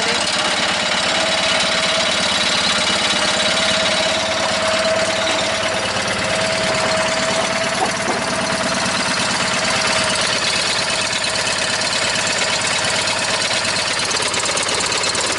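A 318 V8 engine idles steadily up close, its exhaust tip loose after a failed repair, with a continuous rough low rumble, buzzy vibration and a faint whine, and no voices.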